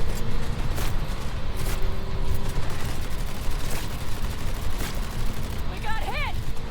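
Sustained bursts of assault rifle gunfire in the video game Cyberpunk 2077 crackle loud and close across several seconds, with sharper individual shots standing out and brief electronic game tones near the end.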